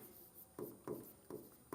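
Chalk or marker strokes on a classroom board while a maths solution is written out, four short scraping bursts in a steady rhythm, close and quiet with no talking.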